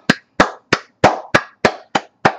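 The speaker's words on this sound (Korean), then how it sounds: "박수 한번." Eight sharp hand claps in a slow, even rhythm, close and loud, each a crisp isolated smack with silence between.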